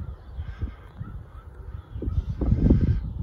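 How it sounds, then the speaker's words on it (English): A couple of crows caw outdoors near a tree. Their harsh, scattered calls rise over a constant rumble of wind and background noise and grow louder and more crowded toward the end. "There's a couple of crows."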